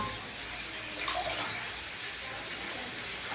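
Chirukura leafy greens are washed in water, heard as a steady close splashing and sloshing with faint voices in the background.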